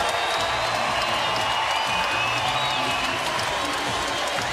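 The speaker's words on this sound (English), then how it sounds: "Big ovations, as you'd expect." A crowd of nearly 10,000 at a Nevada versus Utah State college basketball game in Logan gives a big ovation, a dense roar of applause and cheering filling the arena, with faint commentary beneath.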